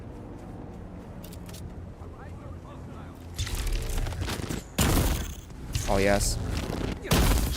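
Gunfire in the video game Dune Awakening opens after a quiet stretch with loud rapid bursts and short pauses between volleys, while a player speaks briefly.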